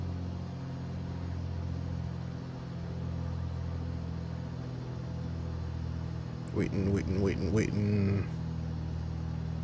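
Piper PA-28 engine run-up in MSFS2020, a steady droning hum held at constant pitch, with a person talking briefly near the end.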